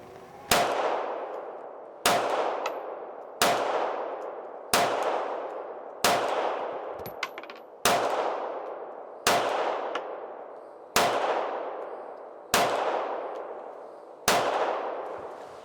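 A small handgun fires at a target in ten sharp, loud shots spaced about every one and a half seconds, each crack ringing out briefly before the next, with no talking between them.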